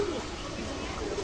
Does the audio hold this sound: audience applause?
no